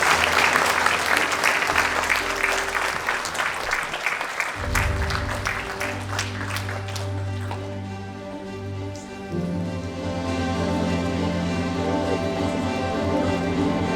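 Applause at a soft launch event, a dense spatter of clapping that fades as a sustained musical tone and background music rise and continue.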